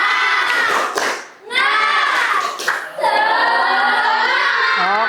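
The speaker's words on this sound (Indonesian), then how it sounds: "Oke, kita tepuk semangat dulu." Children in a classroom shout a rhythmic 'tepuk semangat' clapping chant, loud and energetic in several bursts with a short dip between phrases, then a sustained final shout.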